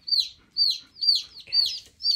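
Baby chicks are being moved into a brooder and peep loudly and close by, five high, clear cheeps that each slide downward, spaced about half a second apart.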